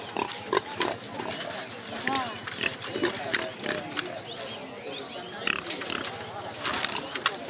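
A black pig for sale at a highland market in Northwest Vietnam grunts and squeals in short bursts amid a busy market crowd, with people talking over the animal throughout.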